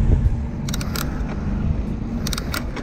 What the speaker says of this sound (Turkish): Otobüs geldi düt düt düt.